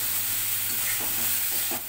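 Green chili drops into a thin ridge gourd curry simmering with spices on the stove, a steady close sizzle and hiss with a few soft splashes and stirring sounds.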